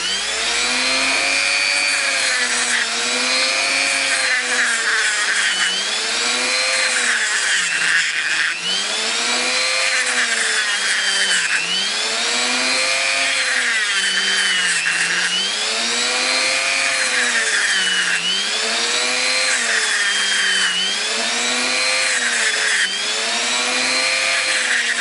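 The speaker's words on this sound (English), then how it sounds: "I'll start sanding at 3 minutes, which is coming up now" Steady, loud scraping of sandpaper worked back and forth over a metal flashlight heatsink in a regular rhythm, continuing without pause and with no voices.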